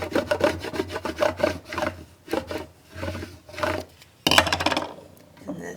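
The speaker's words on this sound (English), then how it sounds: "We'll use our scraper." A plastic scraper rubs back and forth across Cricut vinyl nail decal transfer tape in a run of close, dry scratchy strokes, with a sharper louder stroke near the end.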